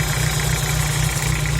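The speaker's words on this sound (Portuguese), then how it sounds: "Quando o motor está em marcha lenta, ele fica com esse barulho normal" A Volkswagen Gol G4 engine idles with an abnormal noise, a loud, steady, close rumble with a fast, even, pulsing rhythm and no speech.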